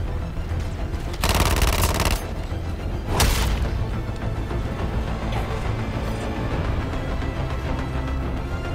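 A gun fires in Suicide Squad Kill the Justice League: a dense rattling burst of rapid shots, then a short sharp second volley, over a steady backdrop of mechanical game noise and clatter.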